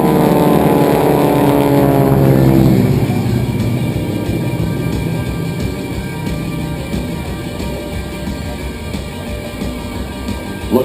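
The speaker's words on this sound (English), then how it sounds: "Look to your left now as the flight of 4 aircraft approaches the enemy target in an echelon formation" A formation of four GEICO SkyTypers aircraft passes at the Wings Over North Georgia airshow, a loud, steady engine drone that falls in pitch as the planes sweep by, then settles into a rough, sustained roar.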